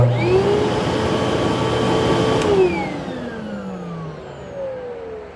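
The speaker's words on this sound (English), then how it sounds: "the motor in this thing sounds perfect, almost" A vacuum cleaner motor whines steadily up close, then its pitch slides down as it begins to wind down.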